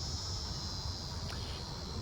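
Cicadas buzzing outdoors, a steady high-pitched drone that holds continuously at moderate loudness, alone with no talk.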